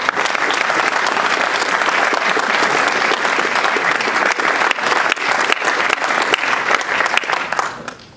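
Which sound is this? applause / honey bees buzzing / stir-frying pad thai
applause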